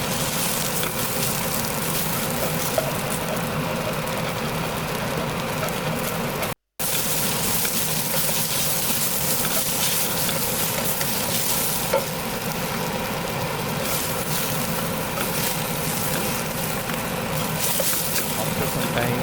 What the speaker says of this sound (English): So right now I'm frying the onion.